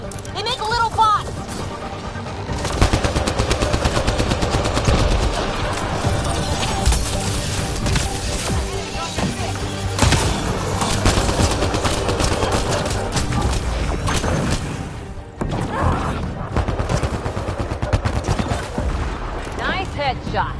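Sustained sci-fi gunfire and explosions from the video game Mass Effect: Andromeda, a dense loud battle with rapid shots and crashes throughout, with characters shouting over the fighting.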